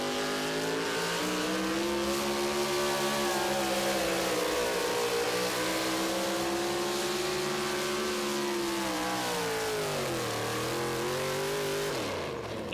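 A pulling tractor at an NTPA tractor pull in Tomah, Wisconsin, its engine roaring loud and sustained with a strained, shifting harmonic drone that dips and climbs again near the end.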